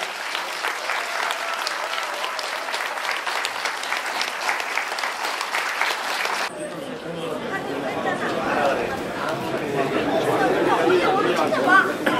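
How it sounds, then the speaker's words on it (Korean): Audience applause at a closing ceremony for a five-day Liberation Day peace pilgrimage walk, a steady dense wash of many hands clapping with crowd chatter mixed in, growing fuller toward the end. "4박 5일간의 순례 일정을 무사히 마친 순례단 여러분에게 여러분의 뜨거운 격려의 박수가 필요합니다"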